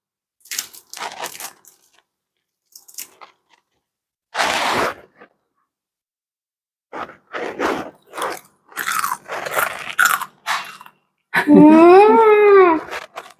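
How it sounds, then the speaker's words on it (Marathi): Crisp masala dosa bitten and chewed up close, with loud crunching bites in separate bursts between pauses. Voices chatter in the gaps, and a higher, babbling child-like voice rises near the end. "आता ती खाऊन दाखवते डोसा कसा झालाय ते."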